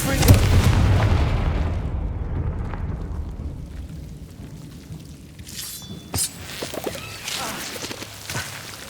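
A Confringo fire spell bursts in Hogwarts Legacy, a loud blast with rumbling low-end decay at the start, followed by quieter game effects and scattered impacts.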